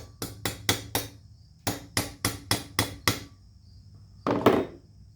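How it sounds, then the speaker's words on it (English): A hammer taps wood in two quick bursts of four and six sharp knocks, then a brief scraping thud follows. "So it works as a nice little tap hammer."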